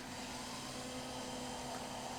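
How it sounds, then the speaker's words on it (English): Hairdryer blowing on a graphics card, a steady loud whooshing roar with a constant motor whine, continuous and close, no talk. "Okay, I'll try use the hairdryer now."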